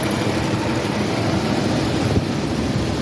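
A classic Pontiac engine idles right after an oil pan gasket replacement, a loud, steady low rumble close up with a fan blowing air over it.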